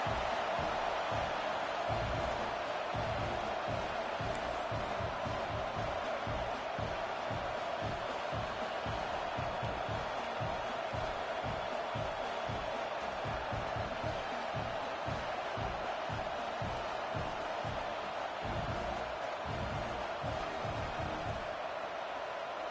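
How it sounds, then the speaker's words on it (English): A football stadium crowd at an Aggies versus Oregon game buzzes after a score: a dense, steady roar of many voices fills the whole stretch at an even level, with no single voice standing out. "this crowd is buzzing after that last score"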